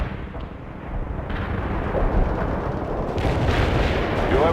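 Sustained rumbling artillery barrage in the World in Conflict video game, a dense continuous roar of distant shelling that swells louder toward the end, with no talk over it.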